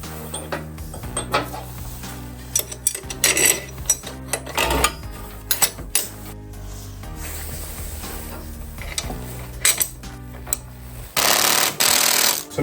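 Bolt being tightened on a crashed 2021 Kawasaki Ninja 400's lowering link: a series of close, sharp metallic clicks and ratcheting bursts over steady background hum, ending in a louder rasping stretch.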